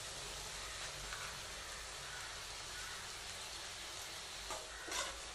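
Ginger-garlic paste with green chilies and mint sautés in a pan and gives off a steady, even sizzle with soft stirring scrapes near the end, with no voices.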